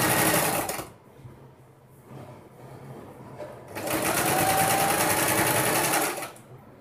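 A sewing machine stitching a round teapoy cover runs in a fast, steady whir, stops briefly with quiet handling noises, then whirs again at full speed before halting.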